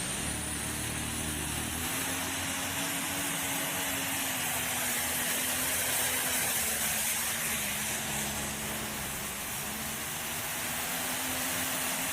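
A John Deere pulling tractor in the 540 Light Pro class roaring down the track at a pull in Pipestone, Minnesota, a sustained loud engine drone with rising and falling pitch over broad noise.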